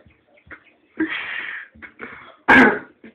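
Close-up throat clearing and small rasping breaths, followed by one loud, sharp cough.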